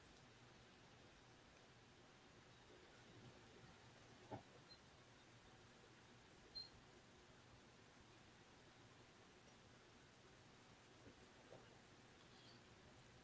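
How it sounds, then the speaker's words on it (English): A cricket chirps in a fast, high, continuous trill that starts a few seconds in and carries on faintly over quiet background noise, with no talk. "Cricket noise."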